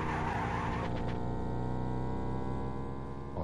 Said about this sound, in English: there is an engine drone droning on in the background on top of our own engine